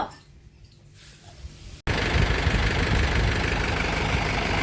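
A tractor engine running at idle on a farm, starting quiet and distant, then a sudden loud, steady, close rumble that continues unbroken to the end.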